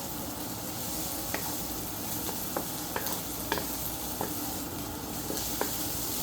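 Onion leaves sizzle and fry steadily with bacon cubes in a pan, with occasional sharp clicks of stirring utensils against the pan over a continuous hiss; no talking.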